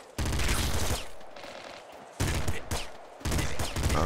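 Rapid pop rifle bursts from the video game Nuclear Throne, loud dense gunfire in three separate volleys with brief gaps between them, no talking.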